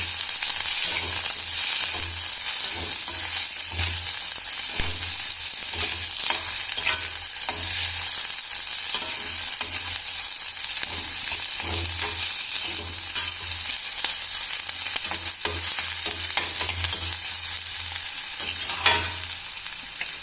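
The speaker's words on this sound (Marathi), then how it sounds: "कांदा, तर याला छान गुलाबीसर असा परतून घ्यायचा आहे" Onion sautéing in a pan for batata methi, turning pinkish: a steady, loud sizzle with continuous stirring scrapes and a low hum running throughout, no voices.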